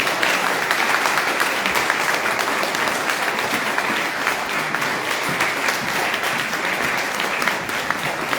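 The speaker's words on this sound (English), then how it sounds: "big huge round of applause for Lilia Letitgo." An indoor audience at a talk-style open day applauds continuously, a dense, even wash of clapping from many hands that holds steady throughout with no voices standing out.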